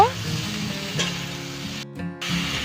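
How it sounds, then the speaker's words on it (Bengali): Flat beans with salt and turmeric fry in a pan as a steady soft sizzle, with occasional light stirring scrapes and a brief gap partway through; no voices. "এবার সব কিছু আবারও খুব ভালো করে নেড়ে নিচ্ছি। নেড়ে নিয়ে 2 থেকে 3 মিনিটের মতো জাল করে নেব।"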